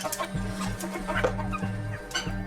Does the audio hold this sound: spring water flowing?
no